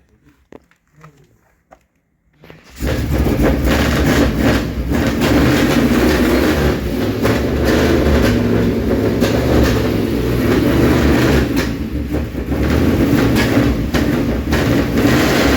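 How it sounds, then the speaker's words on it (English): An old flathead V8 idles and runs steadily after a quiet start: a loud, close, continuous low rumble with a fast uneven throb, starting suddenly a few seconds in. "I still think a flatty has among the best sounds at idle of any engine ever"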